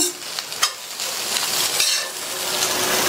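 Okra sautés with spice powder in a pan, a steady close sizzle with a few sharp stirring scrapes early on and a louder frying hiss building through the rest.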